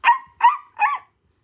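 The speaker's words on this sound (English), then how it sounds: "a tiny distant bark" A dog sound effect in a children's read-along: three short, clipped barks in quick succession, clean and isolated with silence after.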